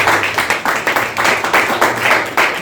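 A church congregation claps together in rhythmic, steady bursts, a loud close wave of applause with no talk over it.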